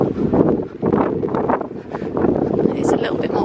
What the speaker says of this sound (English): It's a little bit more windy now.